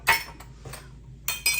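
Small breakfast dishes clink and rattle close by as they are cleared in a home kitchen, a few sharp glassy clinks scattered over under two seconds with quiet handling between them.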